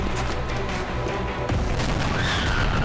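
A sniper rifle shot in a video game comes as a booming report with a rolling echo, followed by a second heavy burst, close and loud and with no talk over it.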